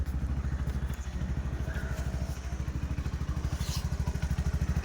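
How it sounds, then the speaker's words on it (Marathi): An auto rickshaw engine, kick-started, runs close by, a rapid, steady putt-putt throb with faint rattles and no voices. "किकवरच रिक्षा चालू करणार"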